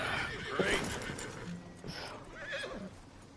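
A horse whinnies loudly near the start, followed by snorts and hoof clops, with another neigh later, in Red Dead Redemption 2.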